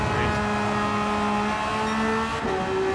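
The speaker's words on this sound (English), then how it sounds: "I'm redlining the Porsche" Porsche race car in a racing video game, its engine held near redline as a loud, close, steady high whine with a brief dip during a shift near the end. Spoken commentary can be heard beneath it.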